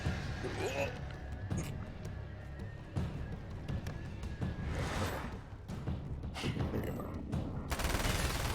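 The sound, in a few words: SMG gunfire in the video game Alan Wake: American Nightmare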